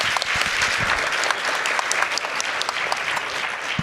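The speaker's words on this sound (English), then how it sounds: "Can we give another round of applause to our wonderful panel?" A conference audience at an education panel applauds the panelists, producing a continuous, fairly loud sheet of many hands clapping that holds steady for about four seconds.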